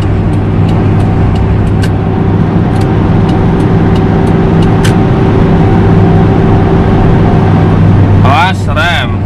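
A Toyota Kijang LGX drives on a city toll road in fifth gear at about 3000 rpm with the air conditioning on. Loud, constant engine and road drone fills the cabin, with a short rising chirp near the end.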